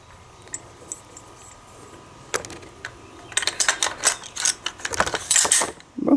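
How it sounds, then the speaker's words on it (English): Bolt carrier group sliding and clicking into a Colt Sporter Target Model rifle: quiet handling at first, then a burst of close, sharp metallic ratcheting clicks and clacks over the last few seconds. "So now we'll put the bolt carrier group in."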